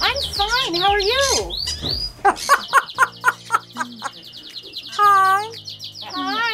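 A senior rescued parrot chirps, whistles and calls up close, rising and falling tones mixed with rapid clicky chirps and a few harsher squawks, loud and alone without human talk.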